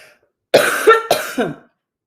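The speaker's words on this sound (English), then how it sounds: "Don't listen to my coughing." A short fit of close, loud coughing, two or three harsh coughs in quick succession.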